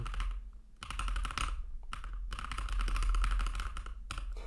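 Fast typing on a Keychron K8 pre-built mechanical keyboard, dense bursts of key clicks in rapid runs with brief pauses, close and fairly loud, no talking.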